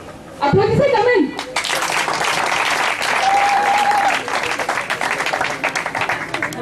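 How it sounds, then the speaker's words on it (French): An audience claps at a provincial youth committee investiture ceremony. The thick, sustained applause swells after a brief voice and a whistle-like tone, then continues steadily and loud with faint voices underneath. "Applaudissez quand même."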